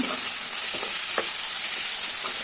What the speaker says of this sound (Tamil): நல்லா மிக்ஸ் பண்ணுங்க ஒரு டூ டு த்ரீ மினிட்ஸ் நல்லா வதக்குங்க